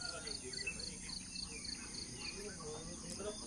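Soft, repeated high chirps from birds or other animals over a low ambient hum at Sagabe Eco Camp, steady and fairly faint throughout.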